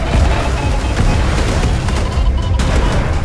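Dense, continuous loud rumble with rapid bursts of gunfire and booming blasts layered throughout, like a heavy cinematic battle mix from a CGI trailer.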